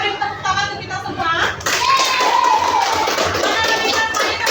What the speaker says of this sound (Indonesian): Ya, beri tepuk tangan untuk kita semua.